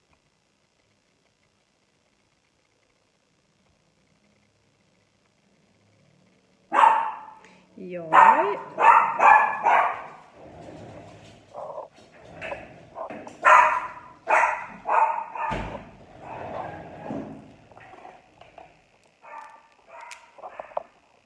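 A dog barks in a bursty run of loud, close yaps and yips after several seconds of near silence, with a brief voice heard among the barks.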